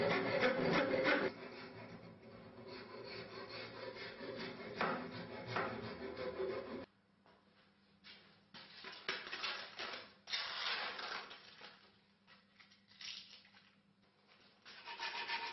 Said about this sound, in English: The external shape is roughly worked by a rasp, so it fits the hand and the sword can be wielded easily.